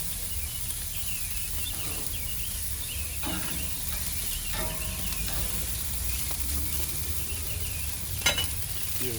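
Jerk shrimp fry in a hot pan with a steady, dense sizzle throughout, broken by occasional soft scrapes and clinks of a utensil stirring, close and even in level.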